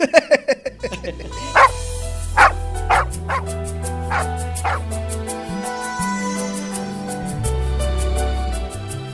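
A dog barks in a run of sharp, repeated yips and bow-wows over a steady musical background, part of a Kannada radio comedy program for the Ugadi festival.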